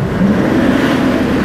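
Mitsubishi 4M41 diesel engine with a cleaned intake manifold revved hard in neutral, a loud, steady close-up drone held at high RPM without dropping off.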